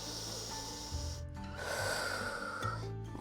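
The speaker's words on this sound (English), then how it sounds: "In through the nose, out through the mouth." A child's yoga session with a big breath drawn in through the nose and pushed out through the mouth, soft snorting inhales and airy exhales, close and fairly quiet.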